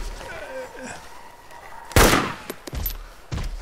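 Video game gunfire: a loud close burst of shots followed by several sharper scattered reports, over faint background game sounds.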